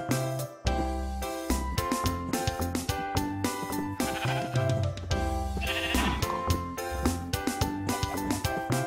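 Minecraft sheep bleat several times in an upbeat game setting while building a ranch, with bouncy tones and plucky background music playing along.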